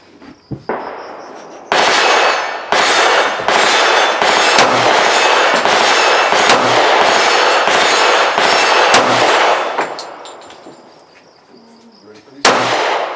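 A Springfield Armory XDs Mod 2 .45 ACP pistol fires about half a dozen sharp, loud shots in quick succession from a six-round magazine, each crack ringing briefly outdoors.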